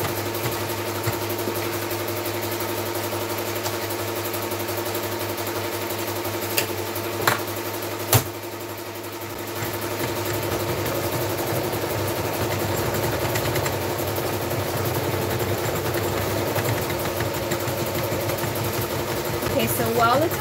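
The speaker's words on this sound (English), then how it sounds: "Now it's going to start embroidering the name." A home embroidery machine stitches a name onto a shirt, a steady mechanical whir and rapid needle chatter running continuously at close range, with a brief dip midway before resuming.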